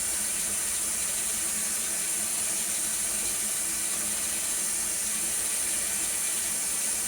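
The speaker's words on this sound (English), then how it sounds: "that water's running" Steady hiss of tap water running into a sink while fleece is being washed, continuous and even throughout with no talking.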